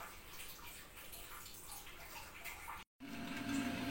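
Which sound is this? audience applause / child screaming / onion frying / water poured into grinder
water poured into grinder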